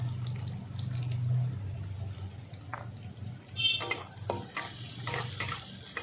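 Chopped onion and garlic frying in a pan for a silver carp and potato curry, a steady close sizzle with stirring scrapes and, later, brief running-water splashes from a tap.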